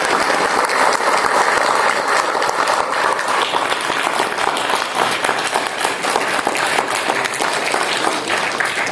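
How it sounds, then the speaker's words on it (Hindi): Thunderous sustained applause from a big crowd at a Hindi-language gathering, a continuous wash of many hands clapping, loud and close throughout. "जोरदार तालियां।"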